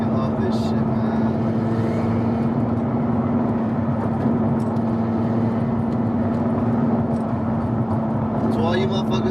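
Turbocharged Nissan 350Z engine droning steadily while driving, a constant loud hum with a strong low tone throughout, road noise under it and faint voices now and then.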